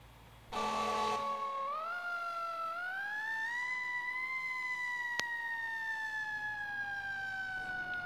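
A fire engine siren in the EmergeNYC video game wails in a long rising and falling sweep while the truck is en route. It starts abruptly, stays loud and close, and a short horn-like blast comes partway through.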